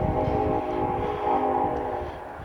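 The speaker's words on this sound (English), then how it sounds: "There goes the Long Island Railroad" A Long Island Rail Road train passes nearby on a windy day, making a loud, steady rumble with a sustained tonal hum that holds for the whole stretch.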